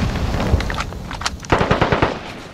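Rapid automatic gunfire from a Call of Duty match, loud and continuous, with a denser run of sharp bursts in the second half.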